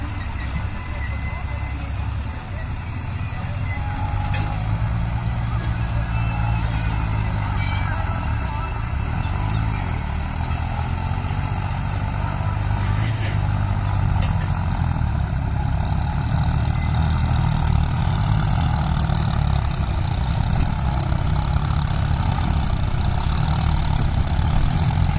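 A New Holland tractor engine rumbles steadily at idle, low and continuous throughout, with faint background noise on top, while unloading during pond digging.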